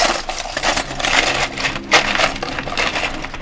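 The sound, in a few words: small parts rattling inside a homemade noise shaker box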